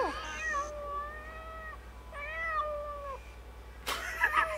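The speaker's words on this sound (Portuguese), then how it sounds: "Calma, é só o gatinho, gatinho." Cat meowing in the Watch Dogs video game, two drawn-out, close, clear meows with a rising-falling whine, followed by a short burst of game noise at the end.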